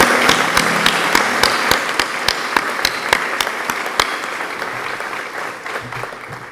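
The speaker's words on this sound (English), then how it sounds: "I think they deserve a big round of applause." An audience at a school event applauds steadily, a dense wash of clapping with sharp individual claps standing out, holding loud throughout and easing slightly toward the end.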